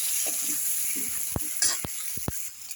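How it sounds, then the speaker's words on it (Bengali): Vegetables frying in a pan with salt and turmeric, a soft steady sizzle running throughout, broken by several sharp clinks and scrapes of stirring. "এখন আমি এগুলোকে ভাজা করব"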